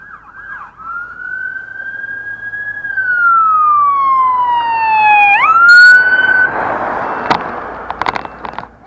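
Ambulance siren in a small town, wailing in long rising and falling sweeps as it passes fairly close, with its pitch dropping as it moves away, then fading into road noise and clatter.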